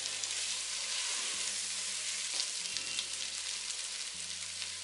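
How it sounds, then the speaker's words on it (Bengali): Mixed vegetables for Bangladeshi-style fried rice frying in a pan, a broad continuous hiss of sizzling oil held close and steady throughout, with a low hum underneath. "এভাবে আমি সবজিটা কিছুক্ষণ কুক করব।"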